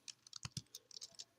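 Computer keyboard keys are typed in quick, irregular clicks and taps, close and quiet, while entering Python code with no voice over them.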